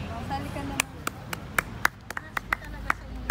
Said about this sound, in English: we give her big applause